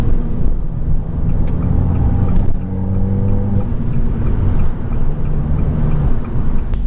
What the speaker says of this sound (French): c'est quand vous mettez un petit peu de pression dans le turbo, c'est là que l'échappement il se libère et il a tendance à faire un bruit assez rauque